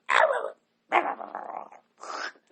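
A person growls in imitation of a dog, three rough, throaty bursts with short pauses between them, loud and close with no other sound around.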